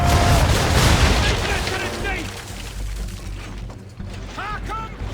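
Ship's cannons firing a broadside in an Assassin's Creed naval battle, heavy booms and rumbling blasts among creaking timber and mechanical clatter, with shouted voices over the din.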